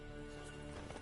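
Roach the horse gallops in The Witcher 3, hooves clip-clopping in a quick steady rhythm, close and loud, with a brief whinny-like tone mixed in.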